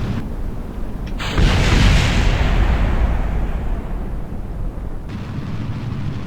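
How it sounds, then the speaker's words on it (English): Rocket boosters explode in the Kerbal Space Program game, a deep booming blast swelling into a long roaring rumble that gradually fades, loud and close, with a faint click near the start and no speech. "that explosion was the sound of my other boosters"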